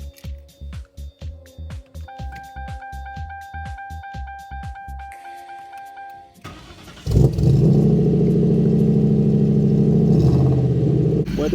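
A Ford Crown Victoria, a model from 1998 to 2002, fitted with a push start kit: a rapid series of clicks and chimes gives way to the engine cranking and catching, then a loud, steady idle close by.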